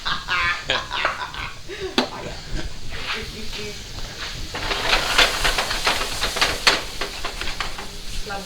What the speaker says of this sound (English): we're going to add a little bit of brandy, and then we're going to flambe